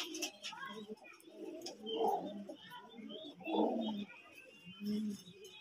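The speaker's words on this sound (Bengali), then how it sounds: "এই যে দেখতে পাচ্ছেন কালদম কবুতর, এরা ডিমে আছে।" Kaldom pigeons sitting on eggs at a pigeon farm give soft, repeated cooing phrases in several low bursts, fairly quiet and close.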